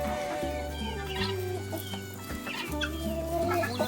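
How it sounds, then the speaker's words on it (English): Domestic chickens being let out near a truck, a dense, continuous mix of clucks and squawks with a rooster among them, moderately loud and close, with no talk over it. "It's time to release the chickens."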